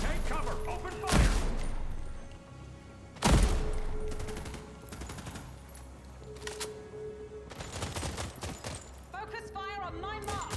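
Automatic gunfire crackles through a sci-fi firefight in The Expanse: Osiris Reborn, with two sharp loud bursts early on, then sustained shooting and clatter mixed with shouted voices.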